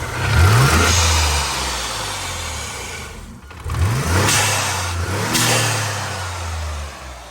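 A twin-turbo 1995 Mitsubishi GTO VR4 engine revs hard several times, each burst climbing in pitch then dropping back, loud and close with no talking.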